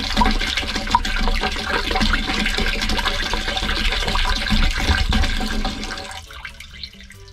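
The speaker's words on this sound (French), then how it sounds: "On verse le produit rouge dans la cuve." Red descaling product poured into the fresh water tank of a van, a continuous loud rush and gurgle of liquid that stops abruptly near the end.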